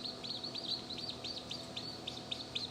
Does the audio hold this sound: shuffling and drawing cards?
no